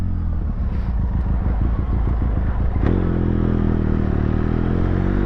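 A Benelli TRK520x touring motorcycle is being ridden close by, its engine pulsing with a rapid, rough throb and rattling clatter. It shifts to a smoother, steadier drone partway through, loud and continuous with no talk.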